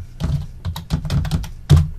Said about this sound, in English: Now we're going to add the page we want by typing in the URL.